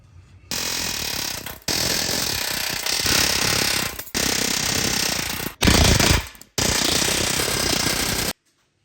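Rivets being driven out of a 1987 Chevrolet 4x4 Squarebody truck, a loud, harsh pneumatic hammering in several long bursts separated by short pauses.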